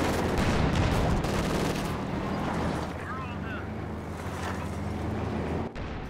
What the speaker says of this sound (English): Anti-tank gun's going to work on this Panzer IV.